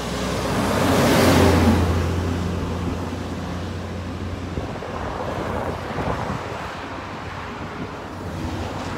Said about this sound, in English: Traffic coming at us is coming from Georgetown.